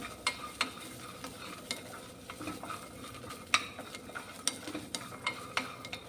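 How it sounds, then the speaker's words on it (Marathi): Gram dal and peas dry-roast over a low flame in a pan, a dry rustling scrape under repeated sharp clicks and taps of the stirring spoon, close up with no talking. "इथं बघा मी व्यवस्थित याला अगदी मंद आचेवर छान असं भाजून घेते"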